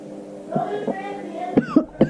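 A person coughs after sipping a drink, several sharp, close coughs and throat-clearing bursts in quick succession, with some vocal sound between them.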